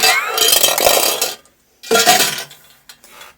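Marbles rattling in a pot, a bright clattering swirl that runs for about a second and a half, stops, then returns in a shorter burst and a few faint clinks, close and fairly loud.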